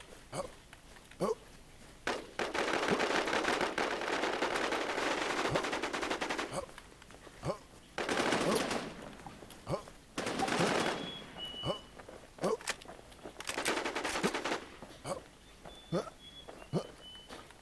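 Rapid automatic gunfire from a shooting video game comes in dense bursts, with short pauses and single shots between them, and some small sounds in the background.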